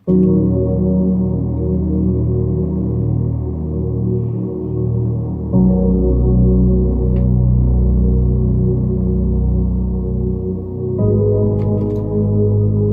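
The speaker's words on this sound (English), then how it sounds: "So the piano and the bass line together sound like this." Piano chords and a deep bass line play together in a steady, full groove. The passage changes twice and continues without any voices.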